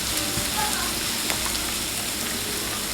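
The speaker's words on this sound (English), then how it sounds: "Let that saute" Leftover boiled food sautés in a pan, giving a dense, steady crackling sizzle throughout at a close distance, with faint speech in the background.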